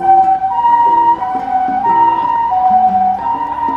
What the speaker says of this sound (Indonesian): Wow, kalau ini mobil ambulan.